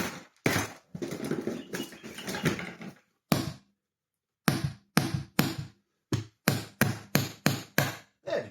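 A hammer taps repeatedly on plastic parts while refurbishing a Henry HVR200 vacuum cleaner, a burst of rapid knocks followed by a pause and then a run of sharp, evenly spaced close strikes.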